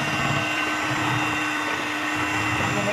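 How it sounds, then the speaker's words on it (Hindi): A kitchen blender whirs steadily through beetroot sponge cake batter, a close, continuous motor drone with no pauses. "इसको अगेन हम थोड़ा सा ब्लेंड करेंगे"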